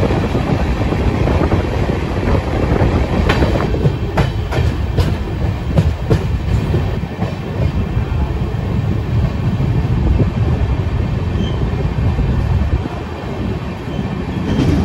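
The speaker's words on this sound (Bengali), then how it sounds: "এই পথটা কিন্তু ট্রেনটা দারুণ টেনেছে" The Howrah–Barbil Jan Shatabdi Express roars along the tracks between Howrah and Kharagpur, loud and steady, with rhythmic clattering of wheels over rail joints throughout.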